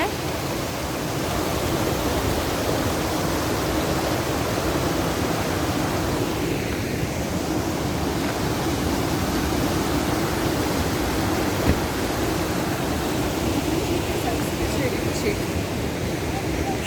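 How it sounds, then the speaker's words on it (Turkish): A creek rushes steadily beside a barbecue spot in Trabzon, a loud, continuous broadband roar of flowing water that fills the scene, close by and unbroken. "biz böyle dere kenarına geldik."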